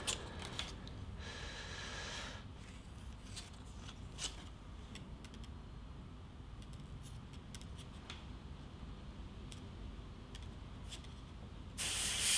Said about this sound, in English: I keep that air on all the time and I'm just pulling back and forth for a little bit of paint to come out